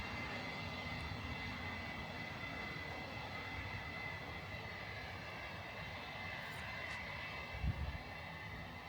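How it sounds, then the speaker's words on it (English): An airplane taking off at London Stansted Airport makes a steady, fairly distant engine roar that holds throughout, with no voices. "You can hear it whirring up. We have liftoff."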